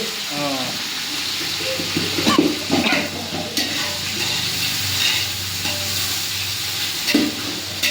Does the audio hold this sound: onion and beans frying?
yes